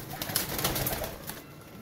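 Teddy pigeons coo softly, with faint, low, burbling calls repeating over about two seconds among light background noise.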